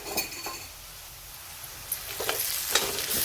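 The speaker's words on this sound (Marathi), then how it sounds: "मिरची आणि लसण परतून घेऊ." Green chili and garlic frying in a pan, a steady soft sizzle with occasional clinks and scrapes of a stirring spoon against the metal.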